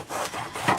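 Knife sawing through the crusty end of a loaf of Italian bread, making a close, dry, rasping crunch across a few quick back-and-forth strokes in under a second.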